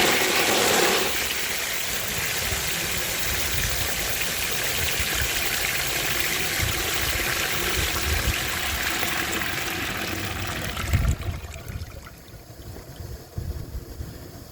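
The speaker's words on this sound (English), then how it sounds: "So I'm going to clog that siphon slot and see how it flushes." A 1921 Standard Ejecto forward-trap toilet, its siphon slot clogged, flushes from an 18-gallon high tank with a loud, steady rush of water lasting about eleven seconds, then drops to gurgling and trickling as the bowl refills, close by with no talking.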